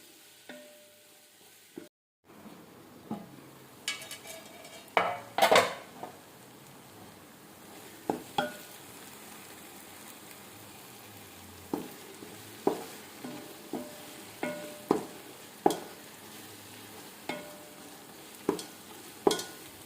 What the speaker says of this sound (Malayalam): തക്കാളി ഇട്ടിട്ട് നന്നായി വഴറ്റണം